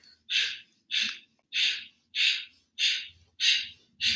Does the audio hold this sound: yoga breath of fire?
yes